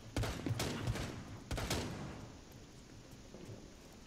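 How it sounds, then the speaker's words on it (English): Gunfire through a wall in Rainbow Six Siege, a few sharp muffled shots early on, then a low rumbling tail fading out, fairly quiet overall. "They're trying to shoot over here, through this wall"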